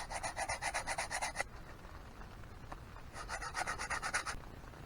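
Rhythmic rasping strokes of sandpaper on an arrow shaft, sanded to prepare it for fletching, come in two close, steady bursts separated by a quieter pause.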